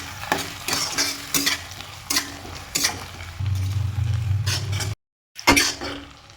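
Thinly sliced onions dropped into hot mustard oil with cardamom, cloves and cinnamon, sizzling and frying while a utensil stirs and scrapes in bursts, with a brief silent gap before the stirring resumes, close and fairly loud.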